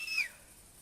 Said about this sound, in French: On va se mettre comme ça, on va siffler.